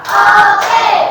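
Hands clapping together in a classroom during a rhythmic clapping chant, a brief close burst of claps with no talking.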